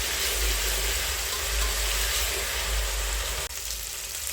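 Ginger garlic paste and curry leaves sizzle steadily in hot frying oil while making Kolhapuri kat vada, a loud continuous hiss that dips briefly near the end before carrying on.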